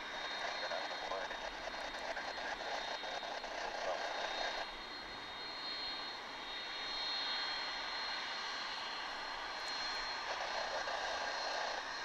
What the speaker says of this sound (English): this, believe it or not, is a 21st century MD-11, dating back to January of the year 2000